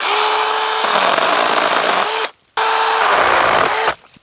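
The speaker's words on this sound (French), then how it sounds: "merci pour la tronçonneuse. Et c'est parti, on coupe." A chainsaw cuts dead, lichen-covered tree branches in two loud, steady bursts of high whining engine drone. Each burst drops off abruptly, with a brief quiet gap between them.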